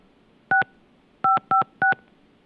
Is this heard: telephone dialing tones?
yes